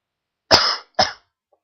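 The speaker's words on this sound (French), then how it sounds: "je vais tousser" Two sharp coughs in quick succession, close and loud, the first slightly longer, followed by silence.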